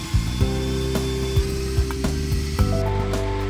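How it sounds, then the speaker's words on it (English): A cordless drill drives the gearbox and large wheels of a low-cost aircraft tug for Cessna planes. The gear whine is steady and close, with several pitch shifts and irregular clicking knocks, and there is no talk. "drill that powers the gearbox and large wheels."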